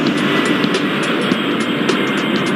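A steady jet engine roar from an airplane taking off in the airport control video game Airport Madness 4, loud and constant for the whole stretch.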